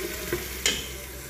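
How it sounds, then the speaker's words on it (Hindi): Dal with black pepper paste is stirred in a hot pan, a soft steady sizzle broken by two brief scraping strokes of the spoon, close up with no voices. "और इसको करेंगे हम थोड़ा सा मिक्स"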